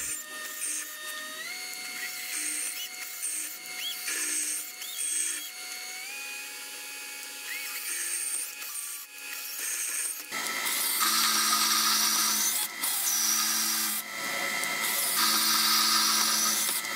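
A metal lathe with its compound set up cuts a matching cone: a steady machining whine with shifting tones, then a louder, harsher cutting noise for the last several seconds, close up, with no talk.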